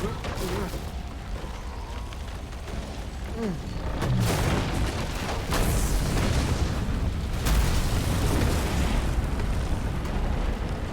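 Explosions in the video game Assassin's Creed Unity, a sequence of deep booms and bursts that rumble on over a few seconds, moderately loud, with someone talking over them.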